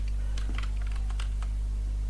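Fingers typing on a computer keyboard, a quick, irregular run of close key clicks over a steady low electrical hum.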